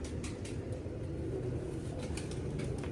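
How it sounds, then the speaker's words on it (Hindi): Pigeon cooing softly and steadily at a distance, a low murmuring coo under faint ambient noise with no talking. "ये इस कबूतर की नोट है"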